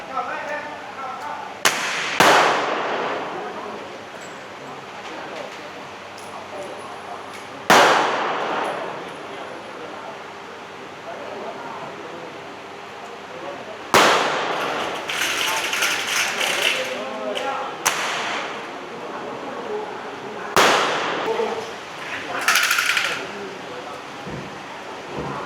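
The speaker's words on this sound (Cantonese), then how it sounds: "咁我哋咧就買咗個400蚊嘅套餐嘅，一共有30發子彈，可以俾你一個人打晒" Repeated loud gunshots at a shooting range in Pattaya, Thailand, with handguns and rifles, sharp cracks spaced several seconds apart with reverberant tails, while people talk throughout.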